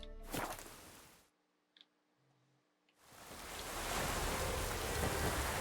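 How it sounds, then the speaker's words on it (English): Steady broadband rain hiss from The Witcher 3: Wild Hunt, loud and continuous at the start, dropping out to near silence for about two seconds, then returning and building to a dense, heavy downpour. "It's actually not raining that bad considering what it was raining like earlier."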